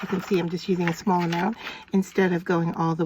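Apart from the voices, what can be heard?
No everyday noises stand out.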